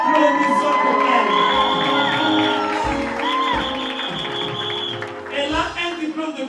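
Audience at a Living God Tabernacle graduation applauding and cheering for a graduate, a loud sustained crowd wash with shouts and whoops over steady clapping, voices mixed throughout.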